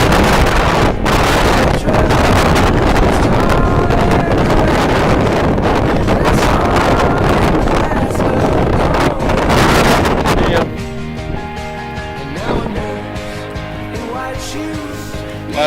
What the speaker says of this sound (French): Alors là, on va passer au vent,